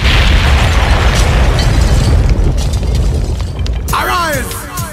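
A loud, sustained bomb-blast sound effect with a long rumbling roar opens a mixtape intro, then cuts near the end to swooping synth sweeps as music begins.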